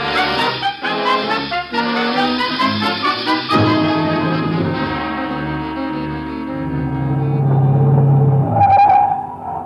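A car drives off in a radio drama scene, its engine rumbling and revving loudly and steadily at close range, then easing into a smoother drone with a faint high tone near the end.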